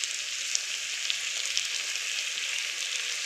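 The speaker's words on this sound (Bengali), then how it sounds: "3-4 মিনিট আমি আমটা জাল করে নিচ্ছি।" Raw mango, tinted with green food colour, fries in a pan with a steady, soft, bright sizzle and occasional faint pops throughout.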